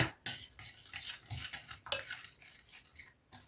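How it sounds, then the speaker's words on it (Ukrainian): Close, irregular clinking and scraping of a spoon against a bowl while mixing herring dressing with mayonnaise and mustard, a steady stirring rhythm with no voices. "Все добре перемішую."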